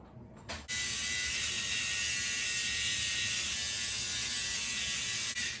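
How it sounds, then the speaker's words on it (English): A Remington T-Series NE7000 precision trimmer switches on after a brief click and runs as a loud, constant high-pitched mechanical buzz, close by and alone, before cutting off near the end. "This is quite loud, way louder than my other Remington nose trimmer"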